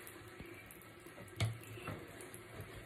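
Water runs from a tap into a sink in a steady low flow, quiet and close, with a few clinks and knocks of handling.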